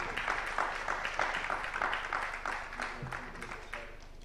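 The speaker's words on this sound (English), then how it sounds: "So you can stand, clap for us" A conference audience claps together in a fairly quiet, steady round of applause made of many overlapping hand claps that fades slightly toward the end.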